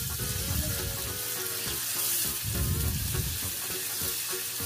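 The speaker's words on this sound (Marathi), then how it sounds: "आणि छान असा ब्राउन कलर येतोपर्यंत आपण कांदा भाजून घ्यायचा आहे" Chopped onion sizzles and fries in hot oil for a dhaba-style aloo palak, with a dense, steady crackle and occasional stirring scrapes, close up and continuous without talk.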